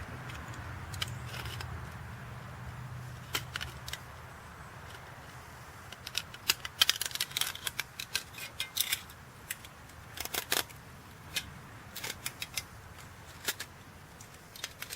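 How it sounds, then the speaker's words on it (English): Scissors snip and trim material for a homemade alcohol stove along a marker line. A quiet stretch gives way to a run of short, sharp cuts from midway on, close up and with no voices. "I'm just cutting right at the top of my Sharpie marker line."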